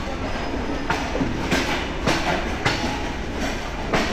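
Padma Express train on the Dhaka to Rajshahi line running through a cold night around 3:30 a.m., with a steady rumble and regular clickety-clack wheel beats roughly every half second, loud and close.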